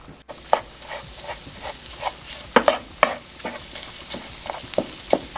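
Ground Impossible Burger meat with black beans and seasoning fries in a pan under a constant sizzle, with regular spatula scrapes and taps punctuating it, close and alone.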